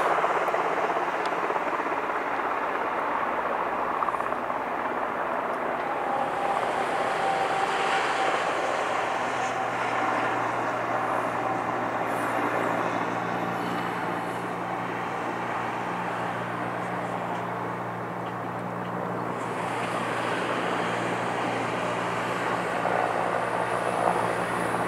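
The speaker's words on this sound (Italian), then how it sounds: "e gli elicotteri volano a bassa quota" Military helicopters fly low near a lakeshore behind woodland, producing a steady, broad rotor and engine roar that persists throughout, swelling slightly and fading, with no voices.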